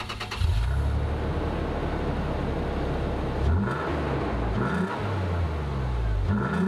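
A 2nd gen Toyota Tacoma with a Dynamax rear muffler idles with a deep steady exhaust rumble, then revs several times in quick rising-and-falling throttle blips, loud and close.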